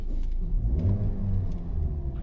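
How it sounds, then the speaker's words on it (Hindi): A 2015 Hyundai Tucson engine idles steadily just after starting, a low continuous rumble held close and fairly loud throughout, with no talking over it. "तो फाइनली गाड़ी चालू हो चुकी,"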